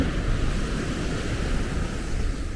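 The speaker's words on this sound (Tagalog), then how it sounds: "Baka kami madala ng alon dahil ang lakas" Strong ocean surf roars continuously at a beach resort in Zambales during high tide, a loud, dense wash of breaking waves mixed with wind buffeting the microphone.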